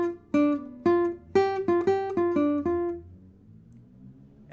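Acoustic guitar picks a short syncopated single-note melody in first position, about nine clear plucked notes in an uneven rhythm, then rings out and fades into quiet, close and alone.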